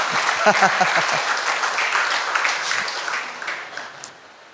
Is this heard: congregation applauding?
yes